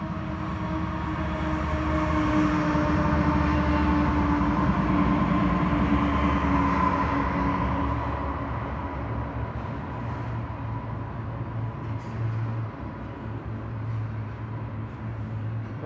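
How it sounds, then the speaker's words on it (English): A freight train carrying shipping containers rumbles past steadily with a low droning engine and rolling wagon noise, loud and close, growing slightly then holding. "I hear that train."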